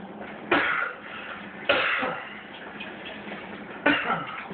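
Three separate harsh coughs, spaced a second or two apart, close by, with quiet room noise between them.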